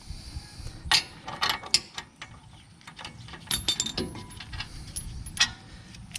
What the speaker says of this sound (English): Whenever you're removing your bolts, make sure you have it loosened, both of them, before you take both of them out.